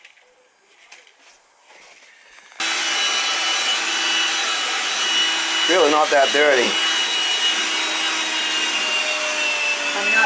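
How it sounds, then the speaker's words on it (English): After a few quiet seconds, a vacuum cleaner switches on abruptly to clean an old central AC unit, holding a loud, steady whine. A short bit of speech comes through in the middle. "I'll hit it with the vacuum."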